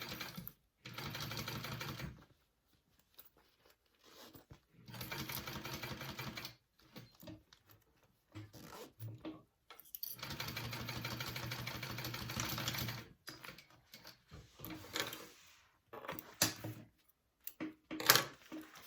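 A sewing machine runs a 1/8-inch seam along a zipper on a crossbody bag, in several long, steady whirring runs broken by quiet gaps and small handling clicks.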